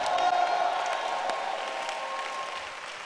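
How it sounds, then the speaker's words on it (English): Church congregation claps and cheers during a sermon, a diffuse, moderately loud wash of applause with scattered shouts that slowly tapers over a few seconds. "it deserves a better shout and a clap for what I'm talking about."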